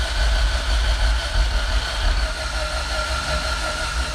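A Honda Civic EF hatchback with an all-motor engine idles steadily and close by, a continuous low rumble that holds even without surges or revs, no one talking over it.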